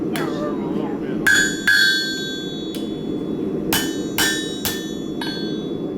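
Hammer blows ring out against steel blanks, about eight bright metallic clangs in an irregular rhythm, close and loud over steady workshop noise with some talking.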